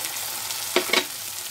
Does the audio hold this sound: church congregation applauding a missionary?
no